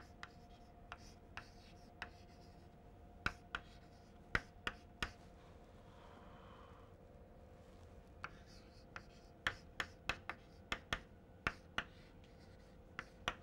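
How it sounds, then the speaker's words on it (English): An equation is written by hand, heard as faint scratching strokes with sharp taps of a pen or chalk spaced irregularly against a low steady hum, close and quiet. "I will write this equation on top of that."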